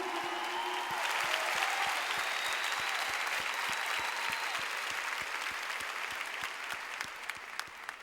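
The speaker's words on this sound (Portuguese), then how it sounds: "pode dar uma salva de palmas para o Senhor Jesus" A congregation claps for Jesus at an outdoor church gathering in Ibirapuera, a steady broadband wash of many hands sustained for the whole stretch, fairly distant and even with a slight fade at the end.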